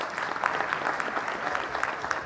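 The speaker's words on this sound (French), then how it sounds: "s'il vous plaît, sous vos applaudissements?" Conference audience applauding, a dense, steady wash of clapping that carries on throughout without pause.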